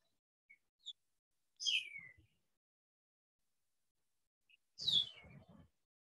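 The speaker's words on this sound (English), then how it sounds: "This Lillian's or maybe Chihuahuan meadowlark, I'm not sure what the final name will be, is similar in song to the Eastern" Lilian's or Chihuahuan meadowlark of the desert southwest and Mexico sings two short, clear, slurred whistled phrases about three seconds apart, each ending in a brief twitter, with a few faint chips before, heard alone and fairly faint.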